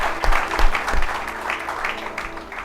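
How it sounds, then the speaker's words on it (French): A church congregation claps for the parents during a service, a short burst of close, lively applause that tapers off, with a voice speaking over it. "est-ce qu'on peut acclamer pour les parents?"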